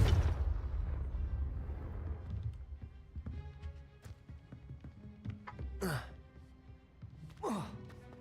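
A Confringo blasting spell bursts in Hogwarts Legacy gameplay, a few sharp swooshing blasts with crackling hits over a low rumbling game score, with someone talking in Hindi at the start.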